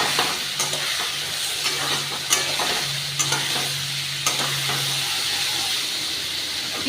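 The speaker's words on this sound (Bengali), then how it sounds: "ভালো করে ভেজে নেব" Cauliflower and a rohu fish head fry in a pan with slit green chillies and turmeric, giving a steady close sizzle broken by repeated scraping stirs of a spatula.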